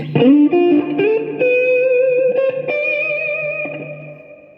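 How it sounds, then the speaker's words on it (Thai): An electric guitar runs through an effects unit with its own preamp, set to a Marshall-style overdrive. Several loud, sustained distorted notes and chords ring out one after another, with the last one fading slowly and no talking over them. "เสียงแตกแบบมาแชลเข้าไป"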